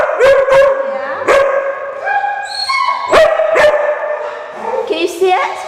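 A dog at an animal control and rabies control shelter barks and yips repeatedly in sharp, loud bursts close to the microphone, with whimpering pitch slides between barks and other voices mixed in.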